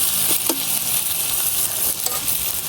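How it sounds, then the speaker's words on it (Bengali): Onions crackle in hot oil as they cook toward reddish brown, a steady close sizzle broken by a couple of short utensil scrapes. "পেঁয়াজটা একটু লাল লাল করে বাজে নিলাম।"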